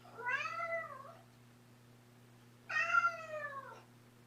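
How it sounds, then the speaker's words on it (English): Kittens meowing: two clear, drawn-out meows separated by a pause, fairly close, over a faint steady electrical hum. "Had a memory show up of Miranda's kittens."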